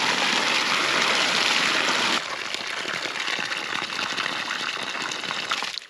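Water hisses steadily from an irrigation sprinkler watering a ranch pasture, a loud broad spray that drops to a lighter, even patter partway through before cutting off at the end.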